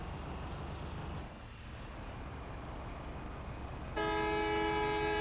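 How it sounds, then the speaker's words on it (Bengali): A Bangladeshi bus horn in the mobile game Bus Simulator Indonesia blares suddenly near the end, a loud sustained multi-tone honk cutting in after several seconds of steady engine and road rumble. "ওয়ানে ক্লিক করলে হর্নটি বাজবে।"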